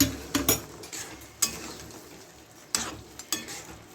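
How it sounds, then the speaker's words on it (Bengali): Red lentils are stirred into fried spices in a pan for a fish-head masoor dal, with a spoon scraping and clattering against the metal in irregular strokes over a soft sizzle. "এবার আমি ডালটা দিয়ে সাঁতরে দিচ্ছি এটা মুড়ি ঘন্ট ডাল দিচ্ছি ডালটা দিয়ে ভালো করে নেড়ে দিচ্ছি"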